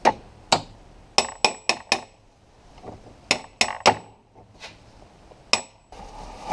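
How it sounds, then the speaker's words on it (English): Gentle hammer taps on a breaker bar while freeing the alternator on a VW Golf Mk4 1.9 TDI, sharp metallic clinks in small clusters of two to four with short pauses, close and clear. "I'm using breaker bar and hammer, so with gentle taps,"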